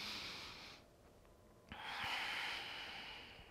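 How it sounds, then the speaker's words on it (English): Slow, soft breaths drawn in and let out through the nose during a quiet yoga practice, faint and close, with a longer exhale that follows a brief pause. "Continue to breathe."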